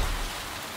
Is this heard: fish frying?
no